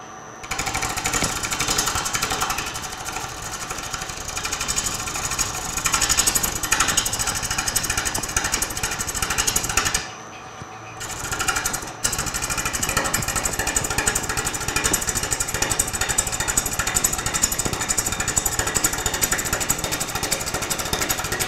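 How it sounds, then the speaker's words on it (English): A wood lathe spins a walnut bowl mounted on a screw chuck while a gouge works the outside, making a steady loud rumbling, scraping roar with a brief pause midway before cutting resumes. "Now I'm going to bring the lathe speed up just a little bit."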